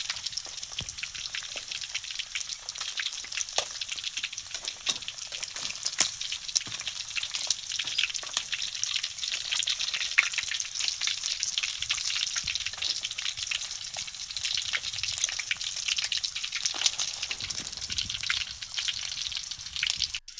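Pieces of field rat meat deep-frying in hot oil, a steady close crackling sizzle with scattered popping bursts that runs unbroken for the whole stretch, with no voices.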